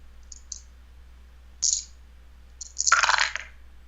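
Dice tumble and clatter on a table in a few short bursts, a couple of light clicks and then a longer rattling roll near the end, close and clear, with no talk.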